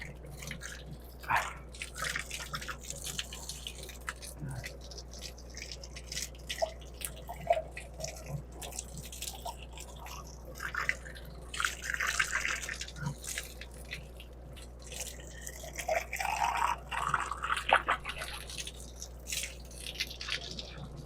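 A sample scoop is rinsed under running water beside a biofloc tilapia tank with an aerator running, giving a steady low hum under irregular trickles, drips and splashes throughout.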